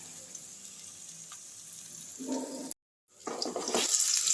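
Onion and garlic tempering frying in oil over a low gas flame makes a steady soft sizzle that grows louder and brighter after a brief silent gap, with light stirring.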